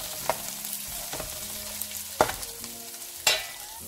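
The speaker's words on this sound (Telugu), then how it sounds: "వీటంతటిని కొంచెం వేయించాలి ఆనియన్స్ని" Onions frying with a pinch of salt in a pan, a continuous close sizzle broken by several sharp clacks of a spoon against the pan, no talking.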